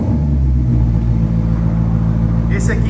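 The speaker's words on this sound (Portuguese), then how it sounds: "vamos dar partida e válvula Nova Racing fechada na primeira partida" A Maserati 5.0 engine with the Nova Racing exhaust valve closed runs with a loud, steady low rumble close by, a brief higher burst near the end.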